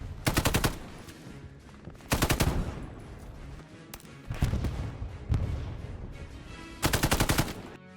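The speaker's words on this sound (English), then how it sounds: "there's new sounds for new weapons like the FG42 that sounds absolutely insane" FG42 automatic rifle fire in the World War II shooter Hell Let Loose comes in several sharp rapid bursts, loud and close, separated by lingering battlefield rumble and distant shots.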